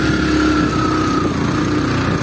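A motorbike engine labors up a steep village road, a steady high-pitched droning whine holding at a constant level throughout, close and loud with no talking.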